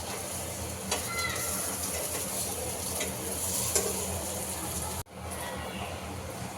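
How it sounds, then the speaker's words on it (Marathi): Brinjal slices fry and roast in a pan with a continuous loud hissing sizzle, broken by occasional scrapes of stirring and a brief dip near the end. "पण हे आता अजून थोडंसं भाजून घेऊया."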